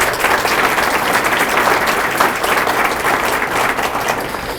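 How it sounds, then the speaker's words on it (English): A community audience at a civic State of De Pere event claps together in sustained applause, a dense, even patter of many hands lasting nearly five seconds at a steady, fairly loud level. "how about a special thank you and applause for Amy"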